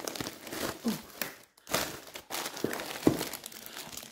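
Crinkly cellophane wrapping being tugged out of a fragrance box in short irregular bursts of crackling, close and fairly quiet, with brief pauses between pulls.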